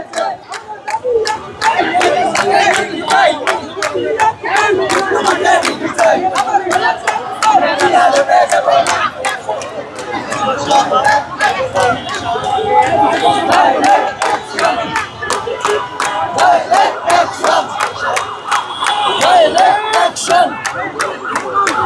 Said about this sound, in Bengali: শাহবাগ মোড়ে নার্সিং কলেজের শিক্ষার্থীরা তারা আবারও জড়ো হয়ে তারা স্লোগান দিচ্ছেন আপনারা দেখতে পাচ্ছেন